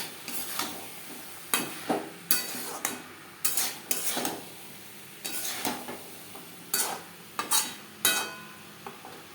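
Boiled potato pieces stirred into spiced peas in a frying pan, a dozen or so sharp scraping and clinking strokes of a utensil against the metal, evenly spaced over a low background sizzle, with no talking.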